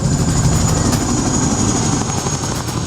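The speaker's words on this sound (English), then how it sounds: "Casualties are recovered from the front line by a Chinook helicopter, Britain's military air ambulance." A British military Chinook helicopter serving as an air ambulance near the Afghan front line, its steady heavy rotor drone and turbine whine holding loud and close without pause, no voices heard.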